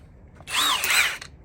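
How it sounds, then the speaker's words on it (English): A Hercules Ultra Torque Gen 2 3/4-inch drive impact wrench, fully charged and set to power mode 3, gives one short, loud burst of whirring and hammering that lasts under a second. "Hercules Ultra Torque Gen 2 3/4 inch drive, Power Mode 3, fully charged."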